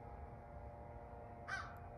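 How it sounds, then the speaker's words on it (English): A single crow caws once, brief and somewhat distant, over a steady low hum of background noise outdoors. "Bitch ass crow wanna make all that noise like he ain't got nowhere else to go."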